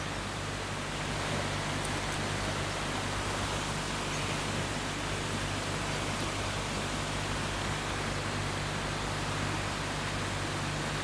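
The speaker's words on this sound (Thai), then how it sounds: "นั่งบรรยากาศฟังเสียงน้ำไหลค่ะพี่น้อง" Water pours continuously over a weir in an outdoor setting, a dense, loud, unbroken rush like a small waterfall that holds steady throughout with no voices.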